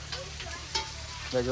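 Brinjal slices fry in fish oil in a home kitchen pan, a soft sizzle with a few scraping stirs, fairly quiet and close.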